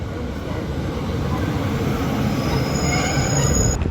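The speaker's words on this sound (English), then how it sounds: "the Newcastle train has just gone through" A train rushes through a station at speed, a loud continuous rumble of wheels on rail with a rising high whine and squeal building toward the end, and no voices.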